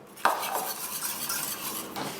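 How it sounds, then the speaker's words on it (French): Cream and egg mixture poured from a bowl into a saucepan, a near, steady liquid rush with a clink of the utensils at the start and again near the end. "Et maintenant, on va passer entièrement dans la casserole."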